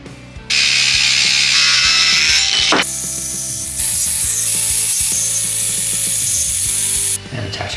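A power saw trims the end piece off a length of timber in a rustic workshop, a loud sustained whine cutting steadily for several seconds before winding down, with no talk.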